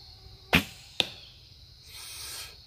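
A 150 grain broadhead arrow is loosed and flies downrange: a sharp release snap, a second quick crack, then a soft whooshing hiss of flight, fairly faint and with no talking.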